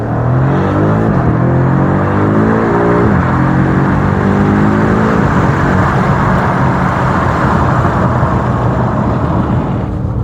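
A BMW M5 Competition F90 engine roars loudly and steadily, with a rising rev early on before settling into a sustained heavy drone.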